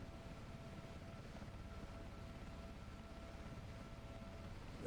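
Steady, even whirring drone of a helicopter in a flight simulator game on a flight from Wittering to RAF Cranwell, continuous and faint with a constant tonal hum and no other sounds.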